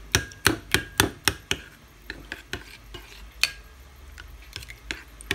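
A spoon clicks steadily against a bowl of mascarpone mixture in quick repeated strokes, loud and close at first, then lighter and more scattered.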